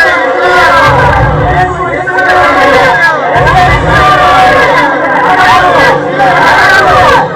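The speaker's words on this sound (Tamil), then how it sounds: "கூச்சல் போட வேண்டாம், கூச்சல் போட வேண்டாம்." A crowd in a stage drama shouts and clamours loudly and continuously, a thick babble of many voices raised together with no pauses.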